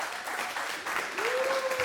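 Applause from a Spanish-language church congregation, with steady dense clapping filling the space and a sustained tone running beneath it, a voice briefly audible over the crowd.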